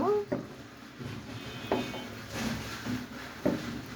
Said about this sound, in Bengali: এখন আমি ডিমগুলোকে পাস্তার সাথে মিশিয়ে দেব